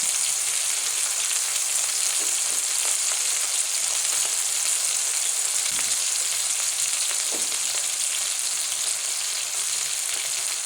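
Medium tomatoes frying in a pan with a light sprinkle of salt, giving a steady, close, dense sizzle that runs unbroken throughout, with a few faint soft knocks.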